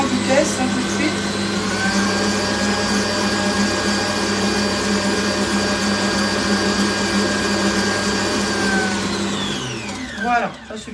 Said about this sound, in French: Je vais juste remettre le fouet. Et on va simplement mélanger en vitesse